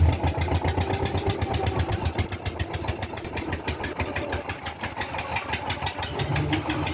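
Fishing trawler engine running steadily on the Bay of Bengal during hilsa fishing, a continuous mid-pitched throbbing chug with a fast regular beat, close and fairly loud, with no voices.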